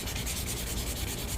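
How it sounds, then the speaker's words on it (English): Steady, continuous sanding of a surplus Japanese axe surface to smooth it, a close, even rubbing abrasion with a faint rhythmic pulse and no pauses throughout. "Then I move to sanding off to smoothen the surface"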